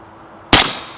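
A single suppressed rifle shot fired through a Yankee Hill suppressor sounds as one sharp, loud crack that decays over a fraction of a second, with a faint second tick just after.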